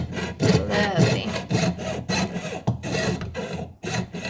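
Jeweler's hand saw cutting silver sheet for earrings, a steady rhythm of close, rasping push-and-pull strokes roughly twice per second, with no talking over it.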